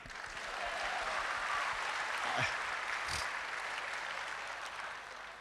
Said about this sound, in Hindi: ये जलन वाली तालियां, खुशी वाली।